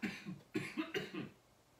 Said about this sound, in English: I'm sorry for constantly clearing my throat